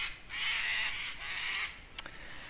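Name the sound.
cockatoos calling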